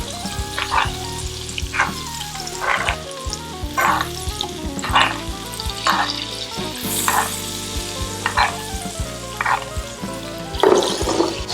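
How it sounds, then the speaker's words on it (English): A tomahawk ribeye steak sizzles steadily in a pan while melted butter is spooned over it, giving a continuous frying crackle broken by regular clinks of the basting spoon. No one speaks. "When it starts to melt like that, what you want to do is just go ahead and start basting it"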